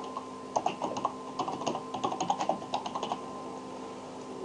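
Typing a table name on a computer keyboard, a quick run of crisp key clicks in short bursts followed by about a second of quiet, with no voices.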